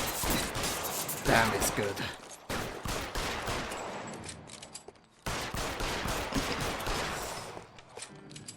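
Rapid, sustained gunfire from the LA Noire video game, bursts of overlapping shots filling the clip with brief gaps, loud and close, with a player talking over it.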